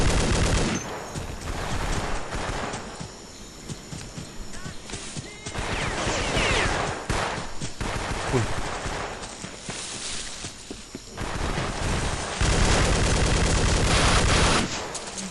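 Gunfire in the video game Vietcong comes as repeated bursts of automatic fire and single shots in loud clusters separated by short pauses, with faint footsteps and impacts between volleys.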